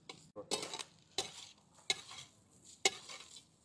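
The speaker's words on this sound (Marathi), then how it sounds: "आता राईस व्यवस्थित परतून घेऊ आपण याच्यामध्ये।" A spatula stir-fries egg thecha rice in a pan with four distinct scraping strokes at irregular intervals over a faint sizzle, heard up close and fairly quiet, without speech.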